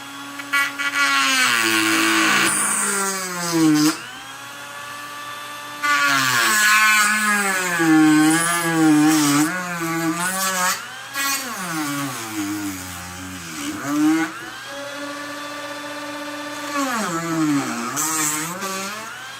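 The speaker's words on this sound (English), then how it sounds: "Now it's time for the Dremel tool." A Dremel rotary tool cuts through cured module sealant, its high whine rising and falling in pitch as it bogs and recovers under load, loud and close with brief pauses between passes.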